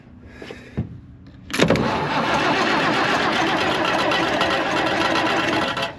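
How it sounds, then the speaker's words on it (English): A Case 1175 tractor, parked for 15 years, is cranked by shorting across the starter. A sharp click comes first, then the diesel engine catches and settles into a loud, steady, close running clatter. "Walk over here and short on the starter because we can."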